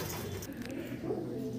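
A Mechua male pigeon, a patta pigeon shown at a pigeon show, gives a low, soft, rolling coo that carries steadily through the whole moment at close range, with no talking.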